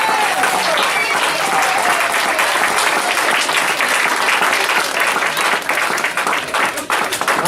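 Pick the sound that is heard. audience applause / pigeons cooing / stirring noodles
audience applause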